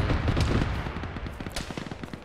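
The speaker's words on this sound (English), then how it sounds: "Fired a couple of shots." Gunshots in a military video game ring out in a burst of heavy, booming fire followed by a quicker rattle of sharp reports, moderately loud with no voices over them.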